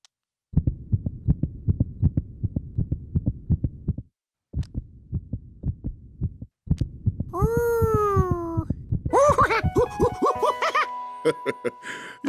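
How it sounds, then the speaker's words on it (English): A cartoon heartbeat heard through a stethoscope thumps in a quick, regular rhythm with a couple of short gaps, then gives way to whimsical sliding whistle-like tones near the end. "That's the sound of my heart."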